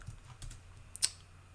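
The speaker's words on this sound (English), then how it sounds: "I'm always typing in the wrong window." A few quiet, scattered keystrokes on a computer keyboard while someone works at a computer, with sharp light clicks and a slightly louder tap near the end over a faint background hum.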